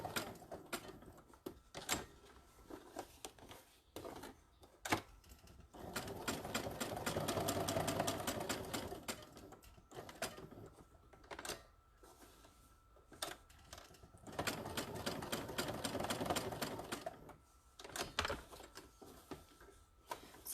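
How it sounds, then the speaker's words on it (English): Sewing machine stitching tote bag straps close by, two sustained whirring runs of rapid needle chatter separated by clicks and brief pauses as the fabric is adjusted, with no talking. "I'm going to do that on the other 3 strap pieces, and then we'll sew our bag together."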